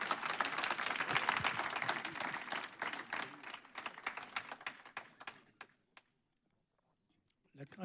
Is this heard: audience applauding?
yes